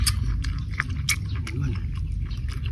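Close, wet chewing and biting on fried pork tail, a steady run of crunchy, crackling bites over about three seconds with no talk.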